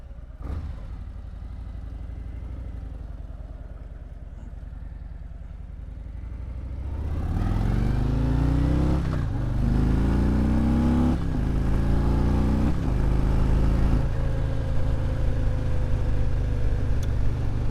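Motorcycle engine recorded through a DJI Action 4 camera mic with a mic adapter, idling with a low rumble, then revving and accelerating through several gear shifts in a loud, close, continuous drone.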